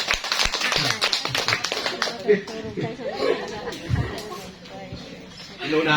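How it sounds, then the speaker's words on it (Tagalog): Brief burst of congregation applause in a church service, scattered claps that quickly thin out into chatter and light laughter, with people talking throughout. "Palakpak tayo man nung makatutulog kayo."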